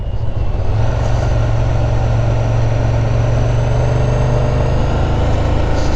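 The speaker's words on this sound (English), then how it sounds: "So the classic Ducati sound, it's a lot more throaty than your typical sport bike" A 2017 Ducati Diavel cruiser motorcycle engine runs steadily with a deep, throaty low rumble, loud and close, holding an even drone throughout with no talking.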